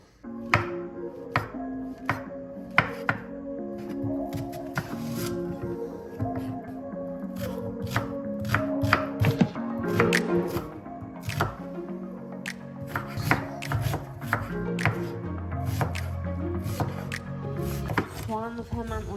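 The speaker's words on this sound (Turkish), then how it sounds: "Şimdi şu biberleri keseyim." Peppers being chopped with a knife on a board in a home kitchen, with repeated crisp close knife strikes in an uneven rhythm over about twenty seconds.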